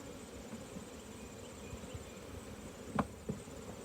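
Honeybees drone in a faint, steady buzz at a backyard hive being checked, with a few brief closer passes of individual bees near the microphone.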